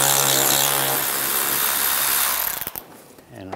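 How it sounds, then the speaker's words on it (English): A power tool fitted with an 8 mm socket runs steadily, removing a screw from the front lower grille of a 2013-2016 Dodge Dart, then winds down into brief clicks and a short final burst. "Use an 8 millimeter socket, take this screw out."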